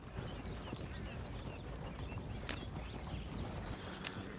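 A chestnut horse's hooves clip-clop steadily through a Red Dead Redemption 2 game world, an even walking rhythm held at moderate level over a dense ambient bed for the whole stretch.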